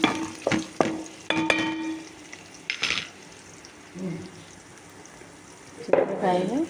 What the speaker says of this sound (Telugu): ఉల్లిపాయ తాలింపు వేగుతుంది.